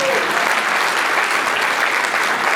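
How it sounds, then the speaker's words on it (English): An audience at an annual political dinner claps in steady, dense applause, loud and continuous throughout with no break. "give her a big round of applause anyway"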